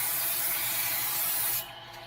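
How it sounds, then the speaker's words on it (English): Cooking spray hissing steadily into a hot pan on a grill-style cooktop, a close, continuous broadband spray that cuts off sharply near the end. "I'm going to go ahead and spray a little bit"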